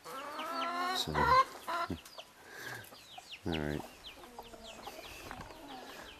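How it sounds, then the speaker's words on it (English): Hens on a country estate cluck and squawk nearby in irregular bursts, some calls rising into sharper cackles, with someone briefly speaking among them. "Who let the hens out?"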